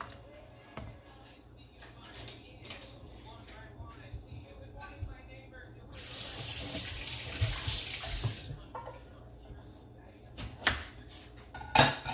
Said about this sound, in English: Now I'm going to go ahead and rinse off my spoon.